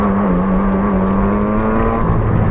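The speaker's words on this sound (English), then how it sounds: "I'm basically flooring it, braking really early, and taking no speed through the corners." A racing kart engine is held at full throttle, giving a loud, close, steady buzzing drone with a constant pitch throughout.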